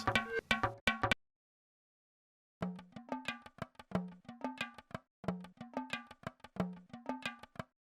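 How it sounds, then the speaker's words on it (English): A dry, punchy unprocessed drum loop sample of kick, snare and hi-hat in a steady groove in FL Studio, starting briefly, pausing in silence, then repeating plainly with no effects. "the drum loop is pretty flat"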